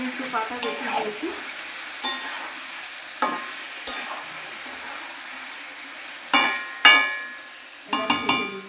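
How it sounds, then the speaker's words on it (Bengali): Chicken pieces, legs among them, frying with lightly browned onions in a pan for a chicken curry, a steady sizzle with repeated sharp scrapes and clanks of stirring, close and without talk. "পেঁয়াজটা দেখুন হালকা হয়েছে, এবার আমি চিকেনটাকে দিয়ে দেবো।"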